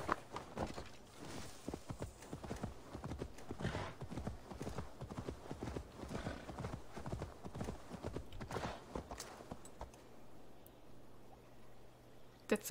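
Steady clip-clop of horse hooves walking at an even pace in the video game Assassin's Creed Valhalla, fairly faint, with a soft ambient wash beneath and no talking.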